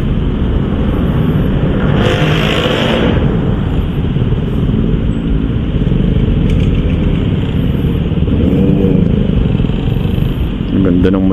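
Motorcycles at a motorcycle bazaar, a steady engine rumble with a passing rev near the start, heard continuously under crowd chatter and voices.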